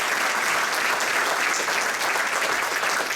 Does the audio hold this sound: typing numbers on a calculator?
no